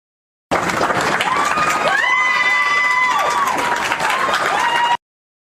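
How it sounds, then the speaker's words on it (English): An outdoor crowd cheers, whistles and claps for a police officer leaving a hospital, loud shouts and sustained whoops over steady applause that starts and stops abruptly. "A crowd cheered for Officer Ken Shaver as he left the hospital over the weekend"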